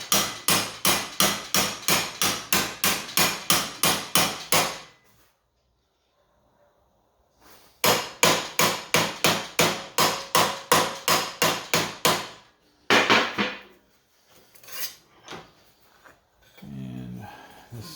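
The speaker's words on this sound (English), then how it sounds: "Get too big of a hammer for the job." Hammer blows ring out on metal while a squirrel feeder is shaped, coming in fast, evenly spaced runs of a dozen or so loud close strikes, broken by a quiet pause and a few scattered final hits.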